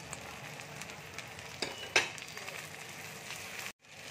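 Onion, tomato and capsicum fry in a pan with a soft, steady sizzle, broken by a couple of brief utensil clinks and a short cut-out near the end.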